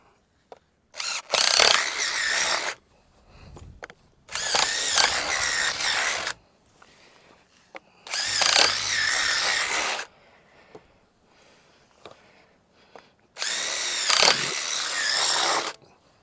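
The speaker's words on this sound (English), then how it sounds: "let me get out my other drill bits, and we're going to go to the big bit, the 1/2-inch bit, and now we're just going to pop some holes in her" A power drill fitted with a 1/2-inch bit bores holes in a pig feeder pipe in four loud bursts of about two seconds each, with short quiet gaps between them and no talk.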